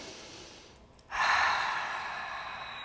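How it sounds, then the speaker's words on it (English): A person takes a deep breath, a soft quiet lead-in followed by a long, airy inhale that swells and then slowly trails off, close to the microphone. "I'm going to take a nice deep breath."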